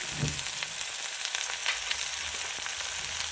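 Onion, capsicum and tomato sauté in hot oil in a pan for Maggi, giving a steady, close, crackling sizzle throughout with no talking.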